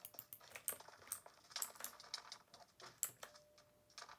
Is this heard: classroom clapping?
no